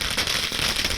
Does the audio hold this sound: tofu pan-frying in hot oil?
no